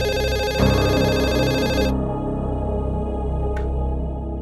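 A telephone rings in an indoor domestic setting, a steady repeating electronic ring that is loud and close, with no talk over it, the tone cutting off partway through.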